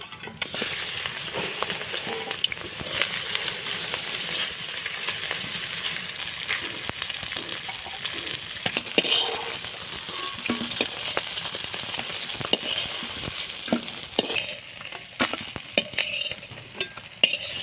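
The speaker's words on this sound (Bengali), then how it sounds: "আর তেল গরম হয়ে গেছে, দিয়ে দেবো মাছ।" Fish, a live singhi catfish, frying in hot mustard oil in a kadai, a steady loud crackling sizzle throughout with occasional stirring scrapes and spatters, no voices.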